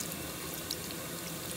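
Water rushes steadily through an elver fishing net screen, a close, continuous broadband wash with no talk over it.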